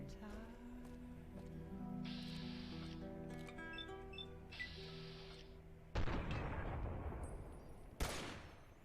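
Two sharp sniper rifle shots crack a couple of seconds apart in the modded video game Fallout New Vegas, loud against a background of tonal game music.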